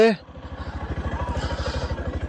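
A motorcycle engine idling close by with a steady, rapid thumping pulse after a short burst of voice at the start.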